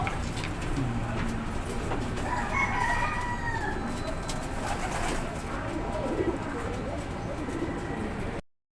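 Racing pigeons of the Van der Wegen bloodline in a loft coo and flutter, with a rooster-like crow and clucks in a busy, steady bird din.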